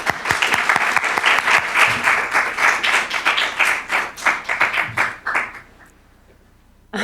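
Audience applause welcoming a professor to the lecture podium, dense sustained clapping from a seated crowd lasting about five seconds before fading out to near silence.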